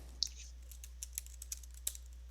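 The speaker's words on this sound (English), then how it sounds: "Listen to that furious typing." Rapid, furious typing on a computer keyboard, faint and close, with sharp separate key clicks at an irregular pace over a steady low hum, and no talking.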